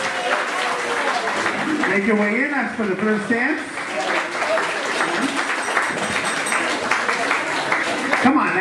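Wedding guests at a reception applaud as a continuous, fairly loud patter of clapping running beneath an amplified announcer's voice throughout.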